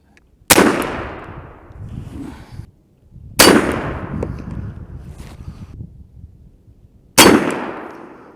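Three loud, sharp reports from an Airforce Texan .510 carbine big-bore air rifle, charged to 3600, each a sudden crack with a ringing decay, spaced a few seconds apart outdoors.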